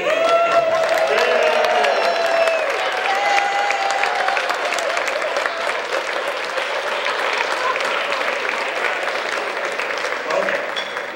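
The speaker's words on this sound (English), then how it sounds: "Let's give her a standing ovation." A standing ovation from the audience at a chamber of commerce awards dinner, loud continuous clapping with some cheering and voices mixed in, holding steady for the whole stretch.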